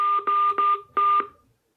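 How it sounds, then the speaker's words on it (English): A telephone keypad sends a quick run of DTMF dual-tone beeps while a voicemail password is entered: four short, loud tones in quick succession, then a pause and a fifth, heard over a call through a portable Bluetooth speaker. "Please enter your password and press pound."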